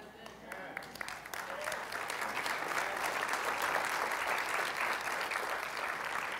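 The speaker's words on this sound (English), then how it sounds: "Keep clapping because after I say the next thing." Church congregation applauding during a Sunday service, a thick continuous roar of many hands that builds slightly and stays strong throughout.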